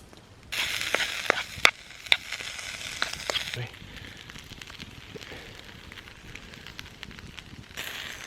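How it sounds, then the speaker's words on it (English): A steak sizzles over a campfire at a wild hammock camp in Thetford Forest, a steady crackling hiss with sharp pops that is loudest early, then settles to a quieter simmer before swelling again at the end. "while that steak's cooking"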